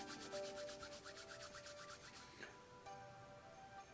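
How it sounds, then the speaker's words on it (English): Hands rubbed briskly together during a tai chi exercise, a rapid rhythmic brushing swish repeated about a dozen times, close and fairly quiet, then slowing into softer friction. "So rub your hands together."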